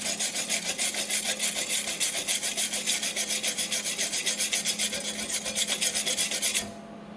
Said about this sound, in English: All I'm going to use is just a simple little brush